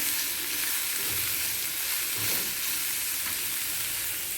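Green chillies and split roasted gram dal frying in oil in a pan for a chutney, giving a steady close sizzle with a few soft stirring scrapes and no talking.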